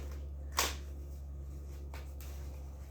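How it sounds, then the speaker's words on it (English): A deck of tarot cards is shuffled in two quick, soft riffling bursts, close and quiet over a low steady room hum, with no talking. "One more shuffle, I think, unless it feels different to me."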